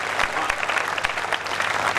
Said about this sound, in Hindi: एक बार जोरदार तालियां बजाकर मैं रैनवाल से।